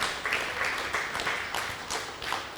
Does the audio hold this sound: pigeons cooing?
no